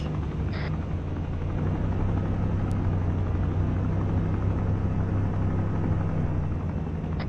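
Helicopter in the military game Arma 3, a steady low rotor and engine rumble that holds at a constant, fairly loud level for the whole stretch, with no voices over it.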